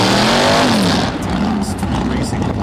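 A 1971 Plymouth Duster 340 with a 340 cubic inch V8, revving loudly and close, its pitch climbing then falling as the engine roars.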